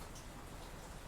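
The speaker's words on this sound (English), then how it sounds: "It's raining." Steady rain pattering and hissing, a dense continuous wash of drops with no voices.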